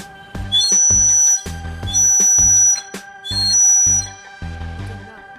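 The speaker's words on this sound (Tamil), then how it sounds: "இது வந்து இது விசில் தான்." A wooden toy water whistle blown dry gives loud, close, pure whistling tones in several separate blasts of about a second each, with short breathy gaps between them.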